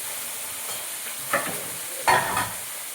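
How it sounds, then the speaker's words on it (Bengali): Fish fry in a pan with a low, steady sizzle, broken by two sharper scraping stirs of a utensil partway through and near the end. "দেখো বন্ধুরা মাছগুলো দেখো ভাজা হয়ে গেছে"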